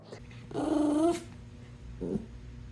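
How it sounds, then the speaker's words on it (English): A dog growls at close range in a long, rumbling burst, then gives a shorter low growl a second later, with no talking. "sometimes involving the dog down here, Tuesday"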